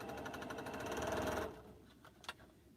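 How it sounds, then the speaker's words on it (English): A sewing machine stitches quilt pieces together in a fast, even run of mechanical chatter for about a second and a half, then stops, followed by a couple of faint handling clicks. "I'm going to sew these into 8s, I think, and then we'll sew some together."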